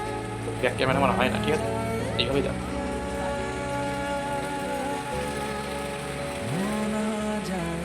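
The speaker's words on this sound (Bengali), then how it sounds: "বাইরে বৃষ্টি হচ্ছে" Steady rain falling outside, a dense continuous patter running under a close voice talking throughout.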